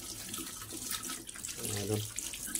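Tap water runs steadily into a sink while chili peppers are rinsed by hand, with a continuous close splashing stream.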